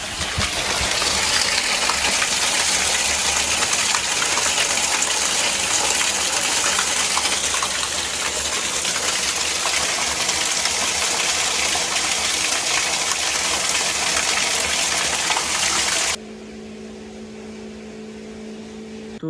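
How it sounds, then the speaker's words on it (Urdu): A solar-powered tube well pump gushes water in a loud, steady rush that runs continuously for about sixteen seconds, then cuts off abruptly, leaving a faint low hum. "اب یہاں پر اب دیکھتے ہیں اس کا پریشر کتنا پانی اس سے نکلتا ہے"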